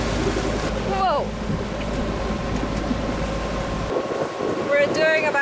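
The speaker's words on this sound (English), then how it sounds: "now, just in time, we get 80 knots of wind" Strong wind at sea buffets a boat in an 80-knot gust, a loud continuous roar with rumbling low-end wind buffeting on the microphone and water noise, brief whistling tones rising above it, and a short calmer dip near the end.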